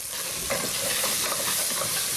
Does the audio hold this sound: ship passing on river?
no